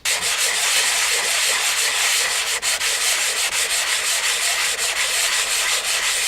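Steady, loud abrasive scrubbing of P120 silicon carbide wet and dry paper across rusty metal, a continuous close rasp with brief dips in stroke rhythm and no voices.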